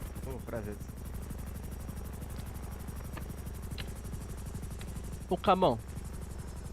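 A helicopter's rotor drones steadily and evenly throughout a video game roleplay scene, with brief bursts of talk heard over it.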